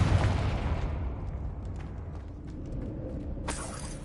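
A Confringo fire spell blasts in Hogwarts Legacy, a loud explosive boom at the start that rumbles and fades over several seconds, followed by a sharper burst near the end.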